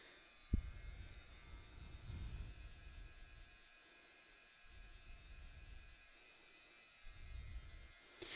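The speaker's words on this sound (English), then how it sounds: "I'm going to go ahead and heat set that, get my heat gun hot down here" A heat gun blows a steady, fairly faint whirring hiss while heat-setting a mixed media Christmas card, running throughout with slight swells in loudness and a sharp click near the start.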